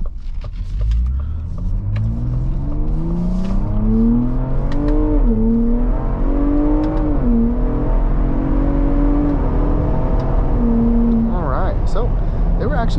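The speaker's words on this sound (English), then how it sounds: "I got that up there to the red line and they shifted when I told them to shift." A car in manual mode using paddle shifters revs up toward the redline, its engine pitch climbing and dropping at each quick upshift, loud and close, with a steady rumble throughout.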